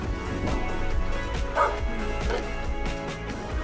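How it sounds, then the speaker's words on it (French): A small female dog barks and yips several times outdoors, short bright bursts spaced irregularly over constant background rumble and movement noise. "Cette petite chienne est décidément pleine de surprises"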